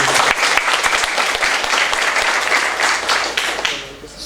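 An audience of school student council members and officials claps in a school hall in Lamongan. The applause is loud and dense and lasts throughout, fading slightly at the end.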